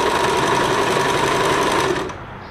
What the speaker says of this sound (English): See our stretch stitch straight here.